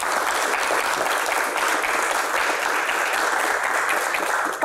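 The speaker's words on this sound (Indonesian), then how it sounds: "Kita berikan tepuk tangan yang paling meriah untuk Dato Sri Tahir." Audience applause for Dato Sri Tahir at a Q&A talk show, a dense, steady wash of many hands clapping at full strength throughout, with no speech over it.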